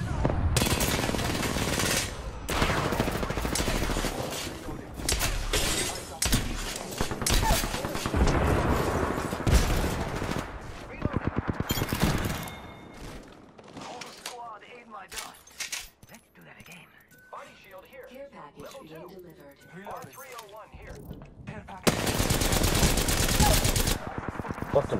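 Bursts of automatic gunfire and single shots crackle through a video game firefight, loud and dense at first, thinning into a quieter stretch before heavy shooting returns near the end.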